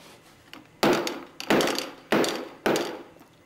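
A pleated dust collector filter from a sawdust separator setup being struck four times in a slow, even rhythm, each a sharp hollow thunk with a short ringing decay, close and alone.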